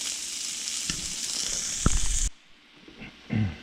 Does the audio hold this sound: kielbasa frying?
yes